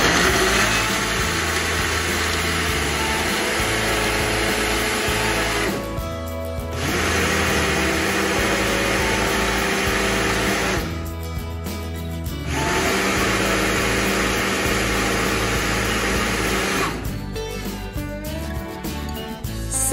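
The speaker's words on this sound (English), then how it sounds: "Okay, I need to plug in my blender first." A blender whirs loudly while blending a cherry, strawberry and Grape-Nuts smoothie, running in steady long bursts separated by brief pauses, close to the microphone with no talk over it.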